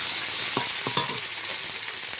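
Onion, garlic and tomato fry steadily in a pan for a lentil curry, a constant high sizzle broken by a few sharp spatula scrapes and stirs near the middle.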